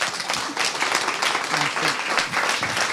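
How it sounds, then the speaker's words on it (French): An audience at a French book presentation breaks into a loud, close round of applause for a prize-winning novelist, continuous clapping with a few voices mixed in. "je pense que ça mérite une salve d'applaudissements"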